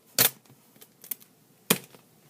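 Duct tape strip cut off with scissors while making a bifold wallet, two sharp close snips separated by a pause and a few faint ticks between, no talk.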